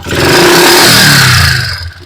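Honda TMX125 motorcycle engine revving hard and loud up close, a strained rising-then-falling roar with mechanical clatter, heard alone with no talking.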